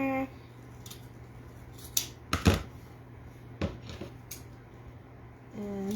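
Scissors snip through deco mesh for a fall wreath, several sharp crisp cuts in quick succession, close and clear over a quiet background hum, with brief handling noises.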